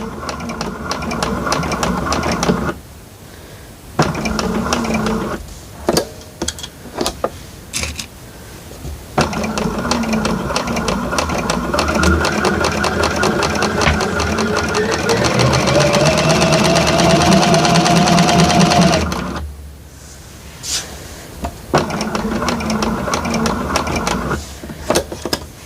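A sewing machine stitches fabric up close in several bursts of rapid mechanical whirring, separated by short pauses, with one long continuous run in the middle.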